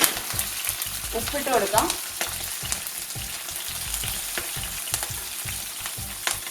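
Curry leaves dropped into hot oil for Kerala-style white lemon pickle, sizzling and crackling steadily close up with a burst of spitting early on and stirring scrapes, while a voice speaks briefly.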